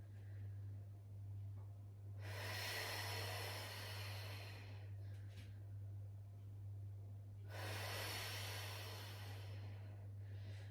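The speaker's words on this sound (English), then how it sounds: "the reason we're doing a strong exhale to come back to centre" Two long, forceful exhales during a core exercise class, each a breathy rushing gust lasting a couple of seconds, heard close over a steady low electrical hum.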